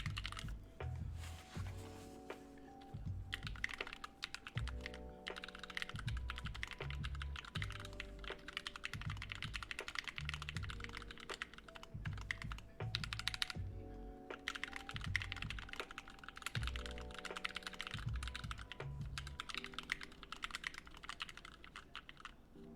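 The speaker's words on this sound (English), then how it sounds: "I gotta break these switches in for sure, but the two stabilized keys sound good" Fast, continuous typing on a newly built SPMini mechanical keyboard with stabilized keys and unbroken-in switches: crisp, closely miked clacks with occasional heavier thocks from the larger stabilized keys, heard alone.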